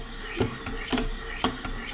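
Knife edge rasped across a 600 grit Wicked Edge Pro sharpening stone, a few steady strokes with scraping bursts roughly every half second, close and moderately loud with no talk.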